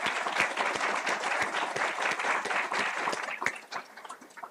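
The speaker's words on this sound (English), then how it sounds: "a round of applause for them" An audience at a welcome ceremony applauds, a steady, dense wash of many hands clapping at moderate distance, thinning slightly toward the end.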